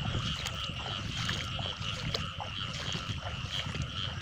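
Frogs croak in a flooded rice field during the water-release season, a dense continuous chorus of calls, loud and steady throughout with a bright whine layered over it.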